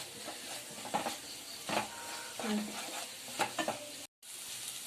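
Ground roasted-coconut paste is roasted in a pan for mushroom curry, giving a soft sizzle with repeated close spoon scrapes and stirs, briefly cutting to silence near the end.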